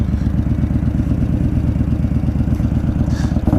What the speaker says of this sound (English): That is Nonno's car.